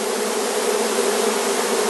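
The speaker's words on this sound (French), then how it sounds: "Ça, c'est des abeilles qui battent le rappel." A swarm of honeybees fans its wings to call the others, making a steady, dense buzzing drone close by that holds without a break.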